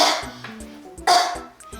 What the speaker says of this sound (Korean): 기침 나올 땐 꼭 옷소매로 가리고 해주세요.